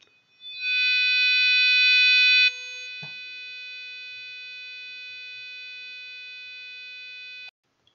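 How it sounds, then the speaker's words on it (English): A passive buzzer driven directly from a PIC16F877A microcontroller pin sounds one long, steady electronic tone, loud for about two seconds and then continuing slightly softer until it cuts off abruptly, alone with no talk. "the beep is very smooth and widely audible"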